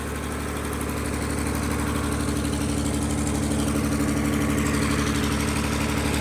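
An old Leyland diesel generator with a broken silencer chugs steadily throughout, a loud continuous mechanical drone with rhythmic engine pulsing and no voices.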